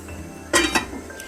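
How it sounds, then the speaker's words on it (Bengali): A lid is lifted off a cooking pan of Bengali tomato chutney, giving two quick metallic clinks and a short scrape, close and fairly loud against a quiet kitchen. "এবার আমি চাপাটা খুলে দিলাম"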